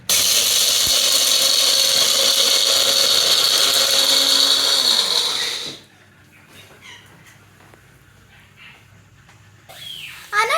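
Fluto mixer grinder motor whirring loudly and steadily with broken stones rattling inside, running for several seconds before cutting off abruptly into quiet room noise, with faint movement and a brief sound near the end.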